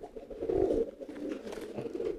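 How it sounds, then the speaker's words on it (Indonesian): A pigeon gives a loud, low giring coo that pulses and wavers close by for about two seconds, with no one talking. "Giring keras banget ya."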